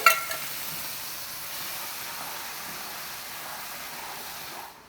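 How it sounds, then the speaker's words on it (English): Onions, tomatoes and garlic hiss in a pan for a shrimp fra diavolo sauce, a steady soft sizzle up close that tails off abruptly at the end. "So we have our onions, our tomatoes, our garlic. They're just mixing up right in here super, super nicely."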